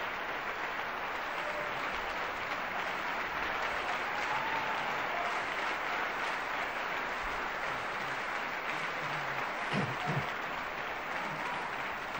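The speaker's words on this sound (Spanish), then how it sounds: "El público está en las primeras filas en pie, aplaudiendo ahora mismo a Joan Pons" An audience at the Gran Teatro del Liceu in Barcelona, front rows on their feet, applauding baritone Joan Pons alone on stage after a recital; sustained dense clapping heard from a distance, with a few faint voices rising briefly.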